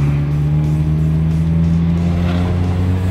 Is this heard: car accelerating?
yes